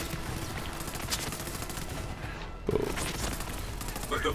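Gunfire in the video game Borderlands 3, a dense, continuous burst of rapid shots throughout with a sharp extra report near the middle, loud and close.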